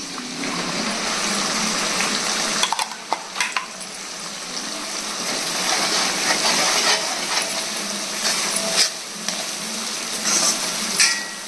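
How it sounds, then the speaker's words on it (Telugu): A masala paste sizzles loudly in a hot pan, a steady hiss broken by occasional spoon clicks and scrapes as it is stirred. "ఇలా కొంచెం వేగాలండి పచ్చివాసన పోతుంది"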